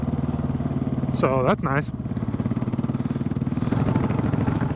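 Kawasaki KLR 650 single-cylinder motorcycle riding off-road, a steady close chugging engine throughout, with a brief spoken phrase over it.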